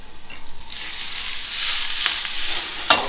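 Julienned liver with red kapya and village peppers fries in butter in a pan over a flame, a rising steady hiss of sizzling with a few sharper crackles and spatters, close up and with no voices.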